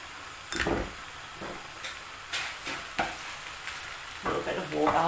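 Tomato puree sizzles in a hot pan while a utensil stirs and scrapes in several uneven bursts, close and moderately loud.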